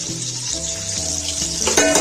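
Chopped onions fry and sizzle in oil in a pan for chicken pulao, a constant loud hiss with a few clinks of a utensil against the pan.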